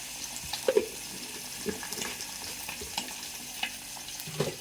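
An egg mixture with a little chili powder is stirred in a frying pan for an omelette, a low sizzle with scattered utensil scrapes and taps, close and moderately loud.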